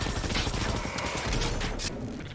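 A KVM-89 machine gun in Generation Zero fires a rapid, sustained burst, a dense crackling roll of shots that is loud and close and runs nearly the whole stretch before easing slightly at the end.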